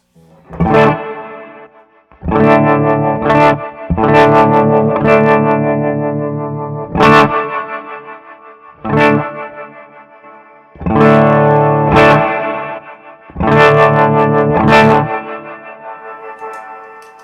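Electric guitar strummed in loud, distinct chords through a Keeley Zoma pedal, each chord ringing with wet reverb and wavering tremolo before fading between strums.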